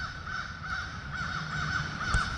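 Crows caw repeatedly in a steady string of harsh calls, somewhat distant, over a faint outdoor background.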